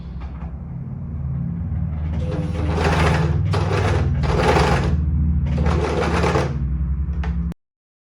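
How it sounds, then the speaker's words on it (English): A serger overlock machine sews black fabric with a loud, close, humming rumble overlaid by rapid rattling bursts in several runs before stopping abruptly. "So I just am gonna go ahead and just start serging."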